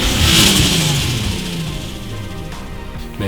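Turbocharged Volkswagen R32 MK4 with a Garrett GT35R-boosted 3.2 engine revving loud and close, a sustained rising and falling engine roar with no talk.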